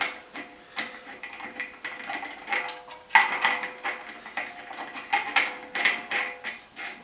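A pressure tank fitting being threaded onto a water pump, heard as close, repeated metallic ratcheting clicks and scrapes in uneven bursts, with no one talking.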